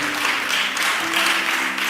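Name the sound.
audience applause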